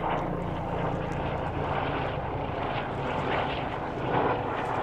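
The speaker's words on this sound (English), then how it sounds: "there's a helicopter, a life flight helicopter flying by" A medical helicopter drones overhead with a steady, broad rumble that swells slightly as it passes, with no voices.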